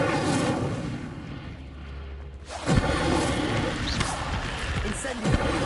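Fire spell cast in a Harry Potter video game, a loud booming burst with roaring crackle that swells again midway, dense explosive game effects throughout with a voice speaking.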